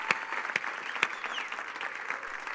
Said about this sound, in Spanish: ¿Puedes darle ese aplauso a Jesús en esta mañana?